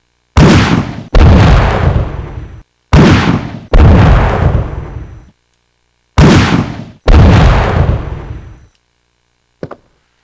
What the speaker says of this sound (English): So here's the mine thrower normally.